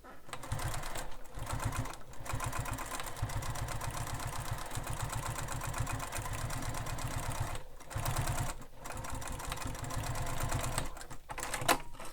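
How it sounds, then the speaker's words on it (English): A sewing machine stitches rows along a bag strap near its hardware, running fast and steady at close range with a few short pauses between runs and no talking. "So 1 row of stitching, and then I do a 2nd row of stitching."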